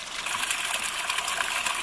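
Water heating to around 90 degrees for cooking vegetables and tea at a Himalayan camp gives a soft, steady hiss and bubbling, faint and continuous with no voices.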